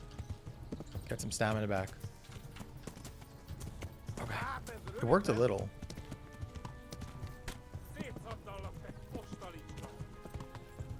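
Horse hooves clip-clop steadily through a gallop in the medieval game Kingdom Come: Deliverance, with a brief whinny mixed in, while someone talks over the ride.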